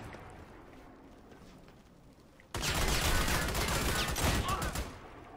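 Dense automatic gunfire in the video game Army of Two erupts halfway through, a loud continuous rattle of shots that holds steady for a couple of seconds before easing off, following a quieter stretch of ambient noise.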